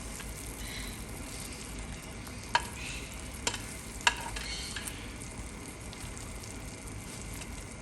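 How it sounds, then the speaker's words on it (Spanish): Potato patties being added to a simmering tomato broth, a steady low bubbling and sizzling hiss throughout with a few sharp clicks of a utensil against the pot. "voy a empezar a agregar nuestras tortitas"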